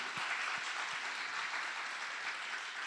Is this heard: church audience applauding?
yes